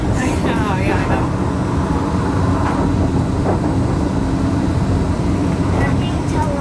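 Riders aboard the Disneyland monorail, an elevated train ride, hear a constant loud rumbling hum of the moving car with occasional squeaks, while people chat over the noise.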